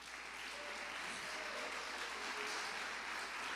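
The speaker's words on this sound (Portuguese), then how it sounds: "Bate palmas para Jesus" A church congregation applauds during a sermon, a steady wash of clapping that holds at even loudness throughout, with faint voices mixed beneath it.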